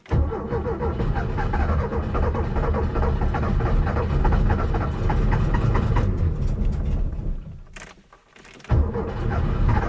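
A Porsche 996 engine running loud and steady, a dense continuous drone that drops away briefly near the end before surging back up, with no talking over it.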